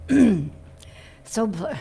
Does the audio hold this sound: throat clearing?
yes